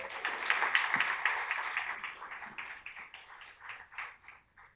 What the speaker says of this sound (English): Give a round of applause for Joe.